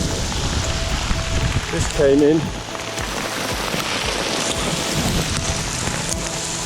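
Heavy rain pelts steadily onto a riverbank camp during a fierce Yukon storm, with wind gusts mixed in and someone speaking briefly over the downpour.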